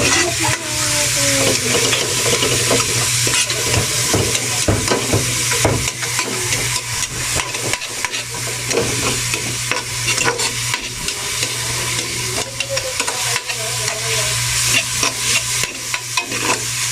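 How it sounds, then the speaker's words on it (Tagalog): Tomatoes fry in a pan while being stirred for a milkfish dish, with a steady close sizzle and scraping stir sounds continuing throughout, without talking. "Haluin lang natin mga karancho hanggang maluto ang kamatis."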